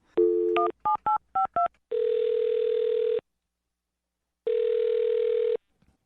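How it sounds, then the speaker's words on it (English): Telephone number dialed as a quick run of touch-tone beeps, followed by two long steady ringback tones with a gap of silence between them. "I'm going to dial her phone number right now"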